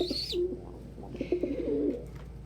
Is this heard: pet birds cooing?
yes